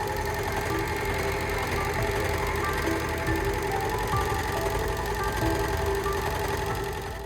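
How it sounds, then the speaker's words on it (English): An overlocker whizzes along the edges of a tiered Victorian skirt, a steady, loud, unbroken motor whir with a continuous rattling hum and no pauses throughout. "it'll be much easier just to whiz them through the overlocker now"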